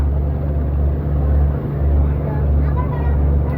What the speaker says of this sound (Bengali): অগ্রদূত প্লাস লঞ্চ আসতেছে এটা যাবে ঢাকা চাঁদপুর ঈদগাহ ফেরিঘাট